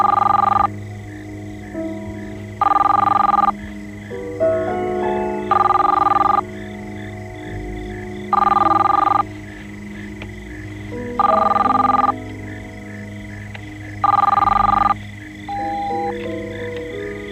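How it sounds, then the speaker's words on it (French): A telephone rings in a 1990s drama scene, sounding in regular bursts: several loud electronic rings repeating about every two to three seconds over a low background of music, with no talk. "Le téléphone a sonné 2 fois."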